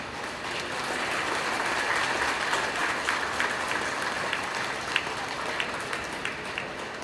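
Audience applause at a stage event, a dense, sustained clapping that holds steady for around seven seconds with no voices over it.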